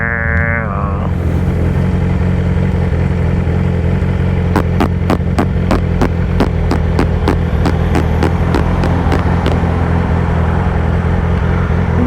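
Passing car traffic rolls by under the steady, close drone of a Yamaha R6 motorcycle in motion, with a series of sharp regular clicks partway through.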